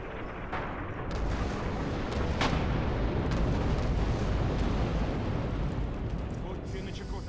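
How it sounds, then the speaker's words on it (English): Dense, continuous battle noise from Red Orchestra 2: Heroes of Stalingrad, with enemy gunfire and heavy booms merging into a steady roar and a few sharper cracks standing out, all loud and close throughout. "Enemy fire!"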